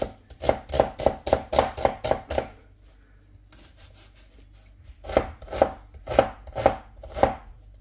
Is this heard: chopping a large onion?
yes